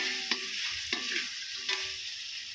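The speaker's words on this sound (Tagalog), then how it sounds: "At yung ating sibuyas. Pwede na po natin siyang ihalo." Onions being stirred into adobo in a pan: three distinct scraping strokes at a steady pace over a constant, close sizzle of frying, with no talking.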